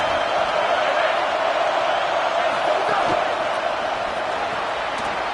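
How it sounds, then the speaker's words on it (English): A large stadium crowd roars continuously in a dense, loud wash of noise during a Cal versus Notre Dame football game, with a commentator's voice faintly mixed in. "Listen to this crowd just shaking the girders of this place, trying to help their defense."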